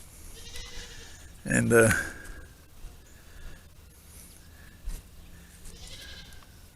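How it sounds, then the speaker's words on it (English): Goats on a homestead let out one loud, wavering bleat and a few fainter calls, while a person talks quietly nearby. "my cute little goats"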